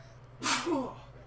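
One close sneeze bursts out sharply and trails off into a short voiced tail, alone over a low steady background hum.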